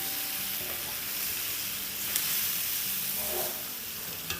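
Chicken for chicken chilli sizzles steadily in a pan over a high flame, a continuous hiss with a few faint clinks.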